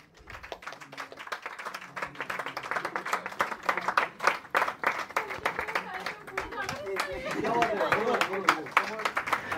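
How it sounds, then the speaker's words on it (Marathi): Applause at a felicitation ceremony for journalists: a crowd claps steadily and builds in loudness, with speech going on over and between the clapping. "जोरदार टाळ्या झाल्या पाहिजेत"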